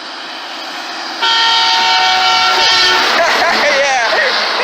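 Nearby train passes loudly after a moment of quiet, its horn blaring with a sustained multi-tone blast over rumbling wheels, the pitch wavering as it goes by; people are talking close by.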